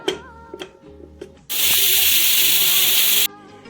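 After a few small clicks and taps, a pressure cooker whistles, a loud sustained hiss of steam bursting out for nearly two seconds, then stopping abruptly.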